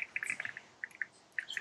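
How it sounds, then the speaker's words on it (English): Red-winged blackbird calling in a wetland during bird banding in Minnesota: a series of short, bright chirps and tweets in quick uneven bursts, fairly close and clear, with a faint background of insects. "it looks like a red-winged blackbird."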